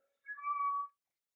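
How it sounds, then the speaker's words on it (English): A cat gives a single clear meow of under a second, close and alone against silence. "my cat is meowing behind me"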